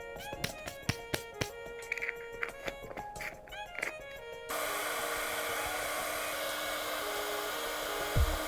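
A heat embossing tool blows hot air in a steady, close whooshing roar for several seconds, starting after a stretch of soft tapping and background music while crafting a miniature snow globe tree.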